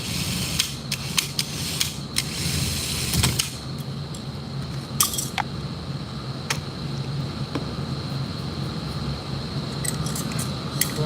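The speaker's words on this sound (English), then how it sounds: "Tighten up the chuck. Grip the nut there." A drill chuck being tightened by hand, with clicking and ratcheting mechanical sounds and a few sharp metallic ticks over steady background noise, no speech.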